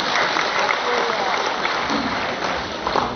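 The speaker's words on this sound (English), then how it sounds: "Another round of applause," An audience at a real estate practitioners' oath-taking ceremony in Cebu applauds, a dense, steady wash of clapping from many hands lasting several seconds, with voices mixed in.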